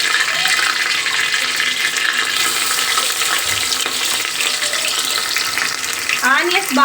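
Onions fry in oil for biryani with a loud, dense, continuous sizzle and crackle close by, plus a brief rattling stir near the end.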